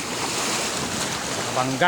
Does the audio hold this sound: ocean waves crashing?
yes